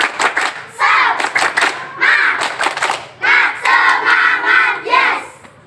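A primary school class performs a rhythmic spirit clap chant in a classroom, bursts of patterned hand claps alternating with loud group chanting by children, close and energetic.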